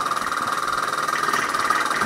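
A Bowman E158 model steam engine runs steadily with a continuous, fairly loud mechanical whir and hiss, close by and without pause; no voices are heard.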